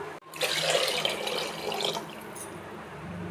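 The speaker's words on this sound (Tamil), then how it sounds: "2 கப்பு தண்ணி ஊற்றிக்கலாம்." Water pours into a cooking pot for rice in a home kitchen, starting after a brief pause as a bright, splashy gush that holds for a couple of seconds, then eases into a quieter trickle.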